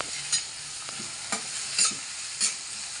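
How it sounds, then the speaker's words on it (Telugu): Onions frying in a pan over medium flame give a steady sizzling hiss, with a few louder scrapes from stirring, and no voices. "ఉల్లిపాయలు వేగుతున్నాయి"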